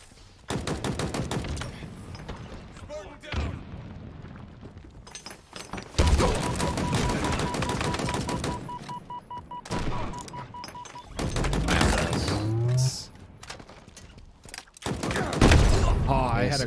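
Rapid gunfire from Halo Infinite multiplayer comes in loud, dense bursts, with shots, explosions and game effects stacking up and brief lulls between the volleys.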